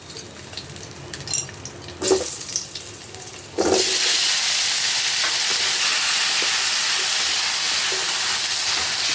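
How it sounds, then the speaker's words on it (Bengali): Potatoes go into hot oil for frying after some quiet clatter and handling, then an abrupt, loud, steady sizzle takes over and holds evenly to the end, close by and with no talk. "এখন আমি আলুগুলো ভেজে নেব একটু"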